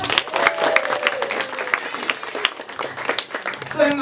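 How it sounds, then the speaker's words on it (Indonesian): Audience applause during a Balinese bondres comedy performance, scattered clapping and crowd noise running through the whole stretch, moderately loud and uneven, with a voice and some tonal sounds woven through it. "ini luar biasa tepuk tangan"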